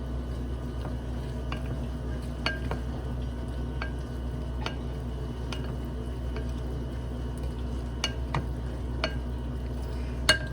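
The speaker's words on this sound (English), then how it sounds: "Now, I don't have a good spoon to mix this, so we'll use this spoon." Corn or cheese dip stirred with an ordinary spoon in a bowl, soft irregular clinks and scrapes of metal on the dish over a low steady background hum, no talking.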